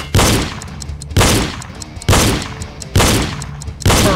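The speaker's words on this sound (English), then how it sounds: "Keep shooting targets." Five loud, evenly spaced gunshots ring out about once a second, each with a short decaying tail, while firing at targets in the shooting game Reload.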